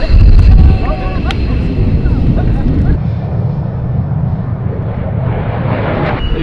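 An F-16 fighter jet with a civilian passenger aboard takes off, its engine roaring loudly and steadily from inside the cockpit, with an initial heavy rumble that settles into a sustained drone while people talk over it.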